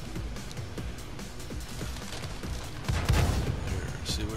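Tank cannon fire in a tank video game: a continuous rumbling engine and battle bed with scattered impacts, then a heavier, louder shot burst about three-quarters of the way through.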